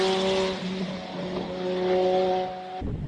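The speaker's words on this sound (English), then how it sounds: "Mark II Escort. Turbocharged rear-wheel drive 4-cylinder." A turbocharged rear-wheel-drive four-cylinder Mark II Ford Escort race car roars loudly with a steady engine drone at a hill-climb, holding revs before cutting off abruptly near the end.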